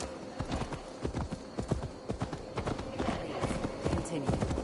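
A horse's hooves clip-clop in a quick steady rhythm while riding through a forest in Gloucestershire in Assassin's Creed Valhalla, with a voice talking over the hoofbeats.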